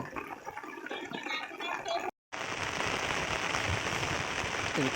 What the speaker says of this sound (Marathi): पाऊस बघा काय पडतंय